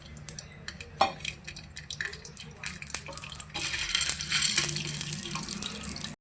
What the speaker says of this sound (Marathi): अगदी थोडंसं तेल ओतणार आहोत